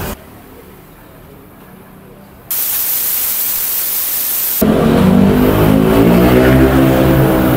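Rexco 82 spare part cleaner sprays onto the CVT of a five-month-old Fazzio motorcycle with 5,000 km, a loud, close, continuous hiss that starts abruptly and then grows louder and rougher.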